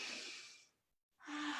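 A soft, breathy inhale through the nose as if smelling a flower, taken during a family yoga and mindfulness session, a gentle airy breath that fades to silence and then returns.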